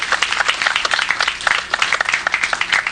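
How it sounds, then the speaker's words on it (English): A school-project audience at a community event bursts into applause: many hands clapping in a dense, uneven patter that holds steady and fairly loud throughout. "So let's give them a round of applause and thank them."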